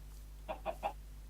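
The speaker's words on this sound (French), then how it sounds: "Donc là il y a des poules." A Minecraft chicken clucks three quick times in a row, short clear notes over a faint steady hum.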